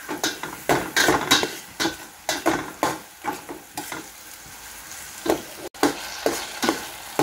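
Corned beef sautéing in a pan for home-style spaghetti, a steady close sizzle broken by repeated scraping and stirring strokes at an even rhythm, with no talking.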